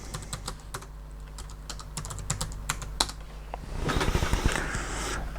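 A login being typed on a computer keyboard attached to a SunRay 1 thin client: a run of crisp, close keystrokes at an uneven pace, ending in a denser flurry of clacking over a faint steady fan hum.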